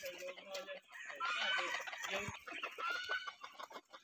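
Chickens give soft, irregular clucks with a brief crowing note mixed in, quiet and somewhat distant in an outdoor setting.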